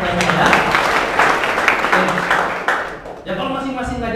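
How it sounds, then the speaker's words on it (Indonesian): Indoor audience applauding together at a seminar gathering, dense clapping that fades partway through before a voice resumes speaking. "Tepuk tangan buat Anda semua."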